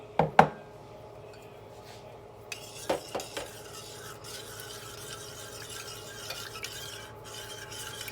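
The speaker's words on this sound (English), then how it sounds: "It's a lot of work, you got to constantly stir." A spoon stirs hot cacao and milk in a pot, scraping continuously, with a few sharp clinks against the metal near the start and a steady rasping swirl after.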